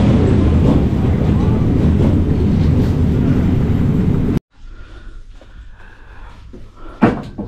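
Loud, steady rumbling roar of a passing train for several seconds, then it cuts to a quieter interior with faint clatter and a sharp knock near the end.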